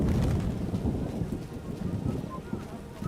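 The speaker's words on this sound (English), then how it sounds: "What a downpour!" Heavy rain in The Witcher video game pours down as a dense, rumbling wash with low wind-like roar, steady throughout and fairly close.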